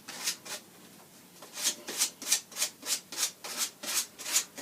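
A wooden walking stick being sanded by hand, about a dozen rhythmic back-and-forth rasping strokes, close and steady, with no talking.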